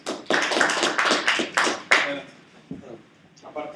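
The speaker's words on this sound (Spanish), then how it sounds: "Por favor, un aplauso." A small group claps at a tech presentation about Android accessories, a handful of distinct claps in uneven rhythm that soon fade, with talk mixed in around them.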